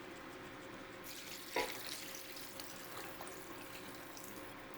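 Water poured into a soup pot holding roasted chickpeas and vegetables, a steady broadband rush with a brief splash near the start, heard alone at moderate level.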